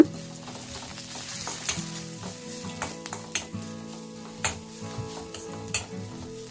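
Turmeric and grated coconut fry in hot oil with a steady soft sizzle, punctuated by light clicks of a spoon stirring against the pan.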